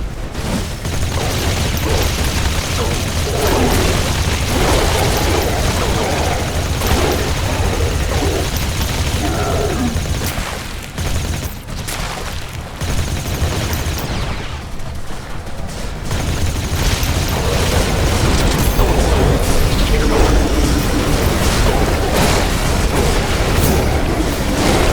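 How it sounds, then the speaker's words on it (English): Battle noise from a base under attack in the sci-fi strategy game Galaxy Breaker: dense, continuous explosions and gunfire-like bursts roll on without pause, loud and close, with a brief lull partway through. "Base is under attack. A building has been destroyed."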